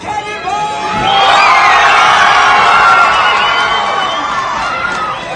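Large New York crowd at a human cannonball stunt roars and cheers loudly, with children's shouts and whoops rising after a second and holding as a sustained wall of noise.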